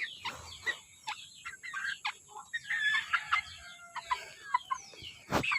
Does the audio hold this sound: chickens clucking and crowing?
yes